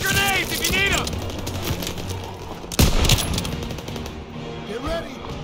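Suppressive gunfire in a Call of Duty battle against a heavy German force rattles continuously, with one sharp loud blast midway, while voices shout over the shooting.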